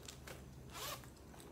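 A zipper on a brown woven wristlet purse is pulled in a few quick, raspy strokes close up, the longest one near the end; quiet otherwise.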